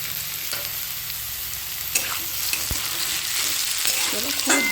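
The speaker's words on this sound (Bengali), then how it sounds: "এরপর আমি এর মধ্যে পেঁয়াজ আর পেঁয়াজের কলিগুলো দিয়ে দিলাম" Chopped onions and onion stalks fry in a pan with a loud, steady sizzle throughout, broken by a few sharp clicks and taps from stirring.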